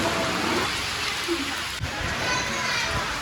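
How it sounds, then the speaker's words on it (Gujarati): Steady rain falls throughout with a dense hiss, while children's voices are faintly heard in the background. "વરસાદ ચાલુ થઈ ગયો"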